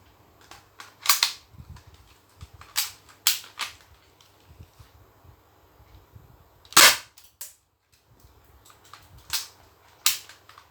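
A Thompson submachine gun fires sharp, loud single shots at a target outdoors, about ten reports spaced irregularly with quiet gaps between them.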